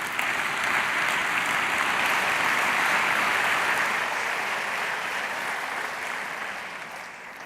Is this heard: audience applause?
yes